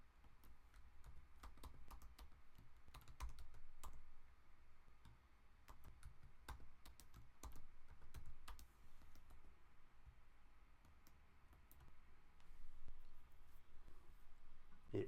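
Computer keyboard keys tapped in a quick, irregular run of soft clicks, close and fairly quiet, with brief pauses between bursts and no voices.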